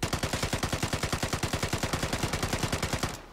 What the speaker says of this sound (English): If we go ahead and shoot auto without a recoil reduction on my right thumbstick whatsoever,